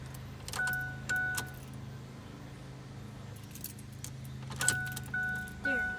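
Car keys jangle in a few short metallic bursts close by, over a low steady hum inside a vehicle during blower motor work.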